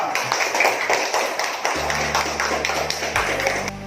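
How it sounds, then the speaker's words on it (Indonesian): Children clapping their hands together in a classroom, a quick run of sharp claps under a steady hum, with some low tonal background noise joining partway through. "Oke, tepuk tangan semuanya."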